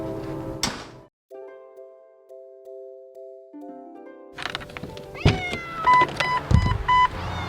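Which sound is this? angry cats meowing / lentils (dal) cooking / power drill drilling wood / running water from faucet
angry cats meowing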